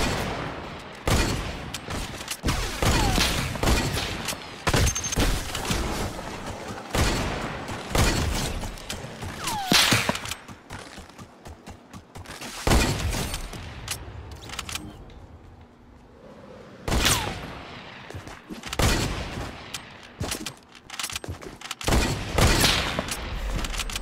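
Gunfire in the video game Fortnite, played with friends: repeated bursts of sharp shots and rapid fusillades scattered across the clip, separated by brief quieter gaps, with people talking intermittently underneath.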